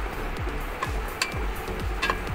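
Meat being fried for biryani sizzles steadily in a pan as potato pieces go in, with repeated scraping stirs at a regular pace, close and moderately loud, and no speech.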